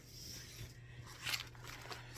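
A zipper on a small fabric zippered pouch bag being drawn open or closed, a soft brief rasp heard close up at low volume against faint background hum.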